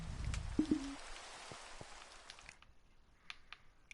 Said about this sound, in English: Oh my god, why does it rain?